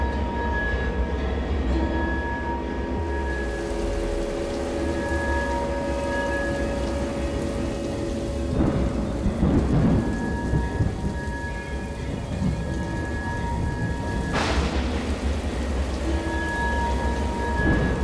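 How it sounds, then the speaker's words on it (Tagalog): Steady heavy rain pours throughout while low thunder rumbles roll in twice, the second one a louder, sharper crack. "Nag-uulan-ulan na siya"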